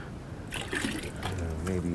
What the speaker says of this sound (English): I'm just going to throw a little bit of water in here.